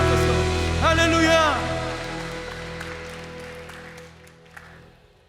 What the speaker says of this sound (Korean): 우리 감사의 박수로 나아갑니다